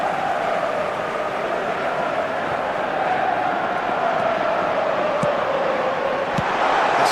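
A stadium crowd roars in an eFootball 2025 match, a dense, continuous wash of cheering that swells slightly toward the end, steady and loud with no clear speech on top.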